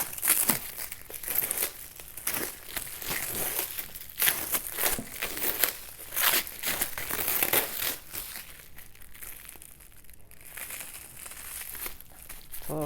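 Plastic packaging wrap being peeled and crinkled off art supplies from Blick, a continuous close, loud crackling with sharper tearing bursts, no talk.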